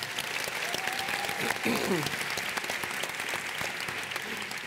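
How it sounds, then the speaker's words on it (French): An audience at a conference keynote applauds a team, a dense, steady clapping that fills the room, with a voice speaking over it at moments. "On peut les applaudir, c'est quand même."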